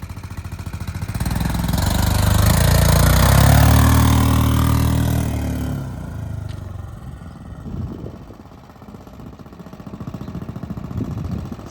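A Cub Cadet Challenger 750 utility vehicle in four-wheel drive with locked differentials, its engine running loud and close as it drives, swelling to a heavy roar and then easing to a lower, steady drone.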